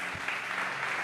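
A congregation applauding during a church sermon, a dense steady wash of many hands clapping at once, loud and even throughout this short burst.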